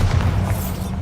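In Hogwarts Legacy, a Bombarda blasting spell goes off as one short, deep, rumbling boom.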